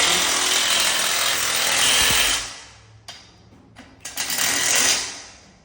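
A power tool rattles loudly as it tightens bolts on a floor plate while installing a HALO HL2-10K two-post car lift, running in a long continuous burst, then cutting to a quieter stretch with short bursts before a final loud run.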